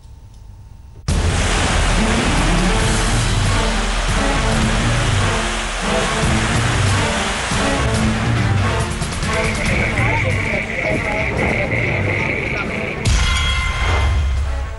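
Heavy monsoon rain and rushing flood water make a loud, dense, steady roar that runs almost without a break across the whole stretch.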